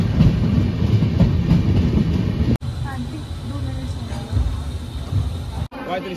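A Guwahati to Howrah train stands at a station platform on a foggy, cold morning, with steady rumbling rail noise and faint clattering throughout, broken by two sharp cuts.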